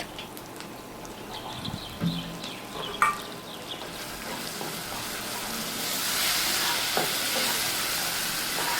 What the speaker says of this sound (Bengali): সব মশলাগুলো দিয়ে সামান্য পরিমাণে একটু জল দিয়ে মশলাটা খুব সুন্দরভাবে কষিয়ে নেব